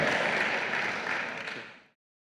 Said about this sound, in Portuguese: Uma salva de palmas para esses pioneiros, heróis.